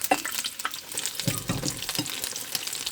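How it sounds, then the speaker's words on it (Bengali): Mushrooms frying in hot oil in a pan while being stirred and turned, a soft constant sizzle broken by scraping spatula strokes and small clacks, close up. "এখানে এটা একটু নাড়াই চাড়াইয়া দিব, তেলটা নিচের গুলো একটু উল্টাই দিব।"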